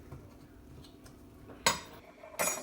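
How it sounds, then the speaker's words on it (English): Two ingredients for a creamy ranch pork crockpot dish are stirred in a bowl, with a quiet rustle and then two sharp utensil clinks against the dish near the end. "stir up these 2 ingredients together till you have them real good and mixed together"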